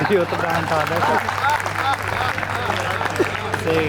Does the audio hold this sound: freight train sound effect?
no